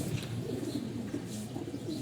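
Female pigeons resting in a loft, giving soft low cooing that runs steadily through a dense, continuous murmur of birds nearby.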